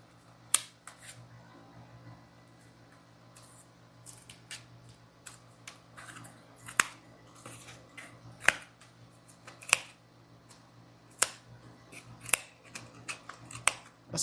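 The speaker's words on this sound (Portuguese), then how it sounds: "Essa tesoura aqui corta tudo," Small scissors on a Leatherman Micra multitool snip repeatedly in quiet surroundings, giving a dozen or so crisp, separate cuts at an uneven pace with soft handling noise between them.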